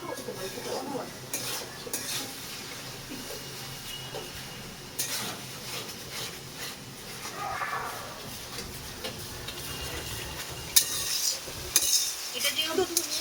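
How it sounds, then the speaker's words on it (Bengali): Coriander chicken sautéing in a pan gives off a steady sizzle, joined by repeated scraping and clinking of a utensil as the pieces are stirred, close and moderately loud. "এটাকে ভালো করে কষতে হবে যতক্ষণ না এটা একটু লালচে মতন কালারটা আসে"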